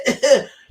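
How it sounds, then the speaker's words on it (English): A person coughs twice in quick succession, close and fairly loud, with a brief quiet tail afterward and no talking. "They cough in the area."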